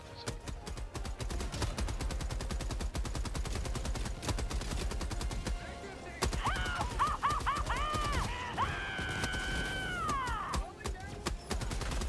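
Rapid enemy gunfire in Helldivers 2, shots cracking from the trees in dense bursts, with heavy machine-gun style rattling and a whining tonal effect rising over it midway, loud and continuous.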